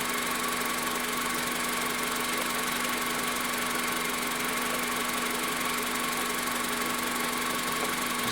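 A 2004 Honda Civic engine runs steadily with a constant droning hum and faint vibration, close by and unchanging throughout with no talk.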